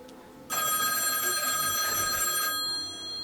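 A telephone bell rings loudly for about two seconds in one continuous burst, then cuts off, over a quiet background during a live late-night show at Whizzbangs.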